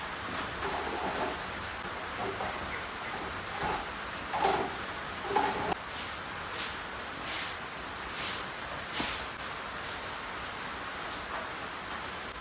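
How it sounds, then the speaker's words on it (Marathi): Steady drizzle falls around a cattle shed through the morning, a soft continuous patter with a few slightly louder bursts, fairly faint and distant, with no one talking. "सकाळ धरून पाऊस चालू आहे असा बुरबुर बुरबुर."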